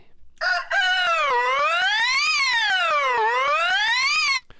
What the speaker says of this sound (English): the initial part of the rooster's call was unaffected before the modulation began